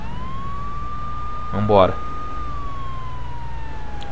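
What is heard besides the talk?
police car siren in video game GTA 3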